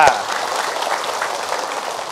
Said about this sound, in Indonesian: Tepuk tangan untuk Ustaz Jaki Mirza.